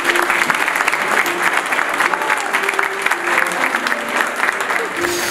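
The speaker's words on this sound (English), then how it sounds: "Can we please get a round of applause for our invitation?" Wedding guests applaud steadily in a dense, continuous patter of clapping that holds at an even level throughout, with faint voices murmuring underneath.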